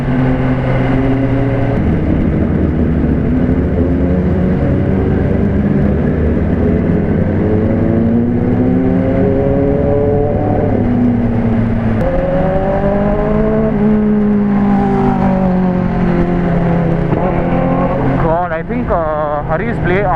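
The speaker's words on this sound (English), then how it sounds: "Screaming, his exhaust is screaming." A loud superbike exhaust screams and rises in pitch continuously, revving hard with engine whine close by, sustained throughout with no pauses.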